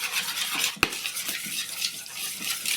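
Chicken salad dressing with mustard and salt being quickly stirred in a bowl, soft continuous scraping of a utensil with one sharp clink of metal against the bowl early on, quiet and close.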